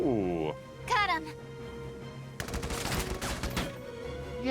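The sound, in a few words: gunfire in Valkyria Chronicles 4 video game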